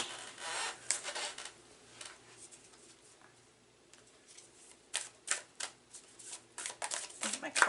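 New tarot cards that stick together are shuffled in short riffling bursts, soft at first and then in quicker clustered flutters, with a voice speaking faintly.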